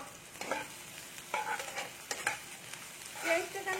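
Chopped onion fries lightly in a pan, with a soft, fairly close sizzle and several scraping stirs at irregular intervals.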